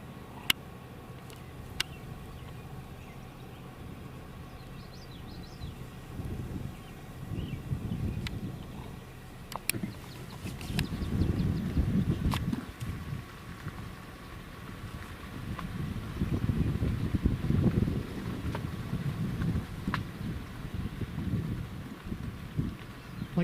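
Breezy wind gusts buffet the microphone outdoors in brushy open country, swelling and fading in low rumbling waves with occasional faint clicks.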